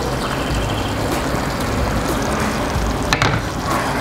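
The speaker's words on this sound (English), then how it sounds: "we just give it a nice stir" Tomato sauce gets stirred into a hot sizzling pan for lasagna, a continuous close frying hiss with soft scraping and swishing from the stir and a small clatter near the end.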